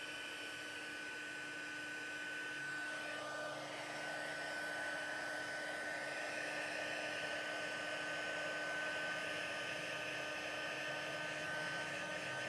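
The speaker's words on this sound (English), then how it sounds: "I have my embossing gun. I'm going to heat it up for a few seconds." An embossing heat gun warms a stamped card, a steady airy blowing hum with a faint whine that holds at an even level throughout, close and quiet, with no voices.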